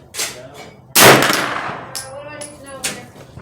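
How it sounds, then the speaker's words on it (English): Sharp, loud gunshots from a 9mm carbine fired at a target 50 yards away on an outdoor range. Distinct reports are spaced a second or so apart, each followed by a brief metallic ring and a fading echo. "I'm gonna try 3 shots at 50 yards"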